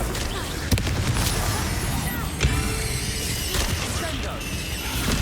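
Confringo fire-blast spell from the video game Hogwarts Legacy, two sharp blasts cutting through a dense, busy wash of in-game combat noise and rumble, with a voice present.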